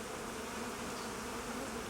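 Honey bees on a hive frame give a continuous, dense buzzing hum, steady and close, with no voices present.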